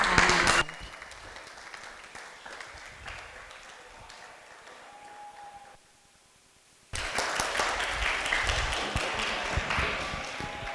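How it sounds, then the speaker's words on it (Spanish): Applause from an audience for the leaders of a group activity at a gathering, loud at first, dropping to a quieter patter, a brief near-silent pause, then swelling again into full, sustained clapping. "vamos a darles un fuerte aplauso igual"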